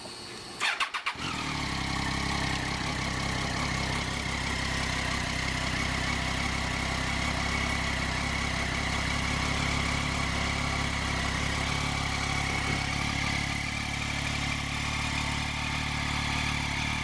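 2004 SVT Cobra Terminator on its factory exhaust cranks with a brief starter burst, then settles into a steady, loud, deep idle that holds for the rest of the clip, close by and alone.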